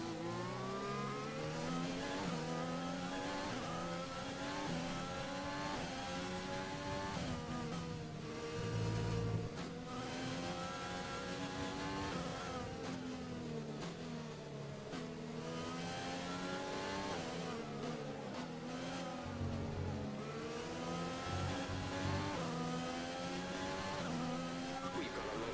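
Simulated Formula 1 race cars in the F1 2020 game at Vietnam or China, steady high-pitched engine whine rising and falling through gear changes for the whole stretch, with a commentator's voice speaking over it.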